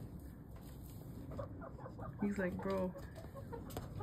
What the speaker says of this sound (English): Here's my other two chickens.